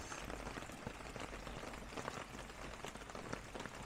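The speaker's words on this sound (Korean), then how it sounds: "비가 그냥 양옆으로 막 때리니까" Heavy rain beats on a Land Rover Discovery 4 during rainy car camping at a campground, a dense, continuous patter with scattered sharper drops, steady and loud with no voices.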